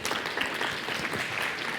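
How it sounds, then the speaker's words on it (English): Audience applause in a talk or seminar hall, a dense, steady round of clapping from a crowd, continuous and fairly close. "Give those people a round of applause."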